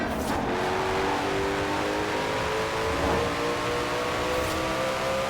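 A Koenigsegg Jesko in Forza Horizon 4 accelerates hard, its engine a loud continuous high-revving roar with rising tone that holds steady and close throughout.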